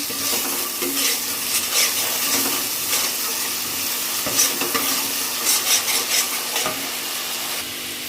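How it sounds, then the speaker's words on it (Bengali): Meat frying in a pan is stirred for matar paneer, giving a loud, continuous sizzle broken by scraping spatula strokes and occasional clanks of utensil on metal. "মাংসটা নেড়ে ছেড়ে নিই"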